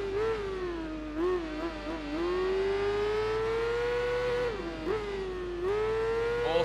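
Racing motorcycle engines in the Tourist Trophy video game drone steadily at high revs, pitch rising and dipping with gear shifts and throttle changes, loud and continuous without talk.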